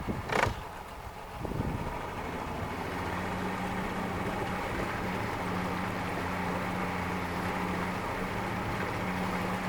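A 40hp Yamaha outboard motor runs steadily on a lake, a continuous engine drone holding even from start to finish after a brief knock and splash near the beginning.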